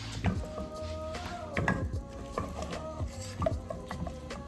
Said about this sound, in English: We'll stir and just let it gently reheat like this